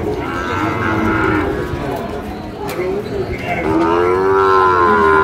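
Cattle low at a busy livestock market in Habiganj selling Sahiwal bull calves, one long moo rising near the end over steady crowd chatter and people talking.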